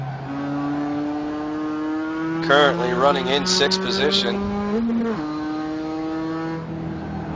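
A race car in a racing game at Okayama shifts through its gears, the engine drone stepping up in pitch, then a quick burst of revving and shifts, partly under a commentator's voice.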